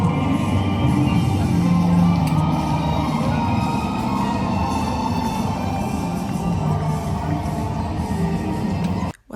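A crowd gathered in a fan zone at Box Park beside the marina at the start of a match, a dense, steady din of many voices with whoops and shouts, fairly loud and unbroken until it cuts off at the end.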